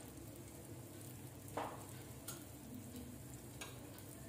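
Malpua frying slowly in ghee on low heat, a faint even sizzle with a few soft stirring scrapes and light splashes, close and quiet with no talking.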